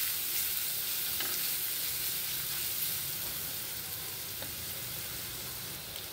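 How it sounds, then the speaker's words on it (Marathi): Garlic and coconut paste sizzles steadily in a hot pan, a continuous close frying hiss with faint stirring scrapes and no talk. "हे लसूण खोबऱ्याची पेस्ट आहे ती टाकली। आता हे छानपैकी आपण परतून घेणार आहे।"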